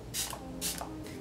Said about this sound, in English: I'm gonna spray my face before I highlight.